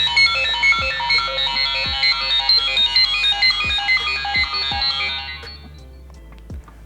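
The iPhone alarm tone "Digital" plays alone, a fast, bright electronic beeping in steady rapid pulses with a regular thumping beat beneath, loud and close before it cuts off near the end.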